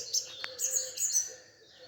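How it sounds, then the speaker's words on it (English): A rook calling during an urban dawn chorus in Pulford, Chester, heard as a brief, faint set of chirps and calls over quiet background. "You're a rook."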